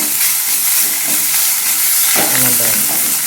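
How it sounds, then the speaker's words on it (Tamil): Ginger and garlic sauté with garam masala in a pan, giving a loud, continuous hiss and sizzle at close range, alone without speech. "சேர்த்து கொஞ்சம் வதக்கி விட்டுட்டு நம்ம இஞ்சி பூண்டை சேர்த்துடலாம்."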